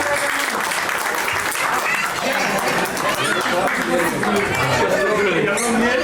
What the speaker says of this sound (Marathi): एकदा जोरदार टाळ्या या कपलसाठी